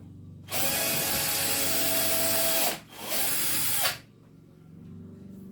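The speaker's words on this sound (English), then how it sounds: "This is my last drill bit of this size." A power drill bores into wood while making a birthday calendar: one long, loud whining burst, a brief pause, then a shorter second burst before the motor cuts off, leaving quiet.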